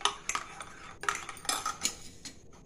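Spoon stirring instant coffee in a cup, quick clinking and scraping of metal against the cup in close, uneven bursts with no talk.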